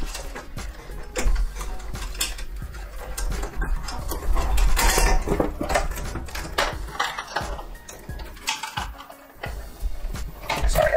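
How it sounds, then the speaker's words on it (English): Screws are backed out of a PC case panel, a close, irregular run of small metallic ticks, clicks and scraping rattles over about eleven seconds with no talking. "once you get those screws out of the way, you can just take the panel out"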